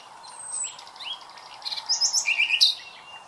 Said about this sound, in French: Le rossignol philomèle est un grand migrateur nocturne